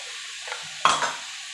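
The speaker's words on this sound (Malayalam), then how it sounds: "എന്നിട്ട് നല്ലോണം ഇളക്കി കൊടുക്കാം" Spinach and lentil thoran with ground paste is stirred in a pan, making one clear scraping sweep and a fainter scrape before it over a low, constant sizzle, with no talking.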